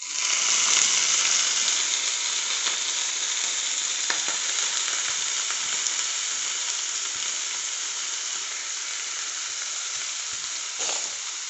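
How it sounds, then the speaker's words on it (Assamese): Onions and red weaver ant eggs fry in a hot pan with a loud, continuous crackling sizzle up close. A few light stirring scrapes break through the hiss. "এয়া পিঁয়াজখিনি ৰঙচুৱা হ'বলৈ লৈছে, আৰু 1 মিনিটমানৰ ভিতৰতে ভাজিম।"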